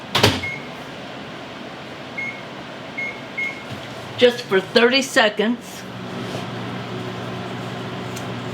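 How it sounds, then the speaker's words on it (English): A kitchen microwave oven heating a small amount of liquid for a pie filling: a few short keypad beeps, a brief stretch of nearby talk, then a steady low hum as it runs. "I'm going to put this in the microwave"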